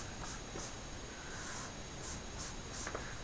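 Pen or pencil strokes on paper while sketching a graph by hand for a math problem, a series of soft, brief scratches in a steady rhythm over a quiet, even hiss.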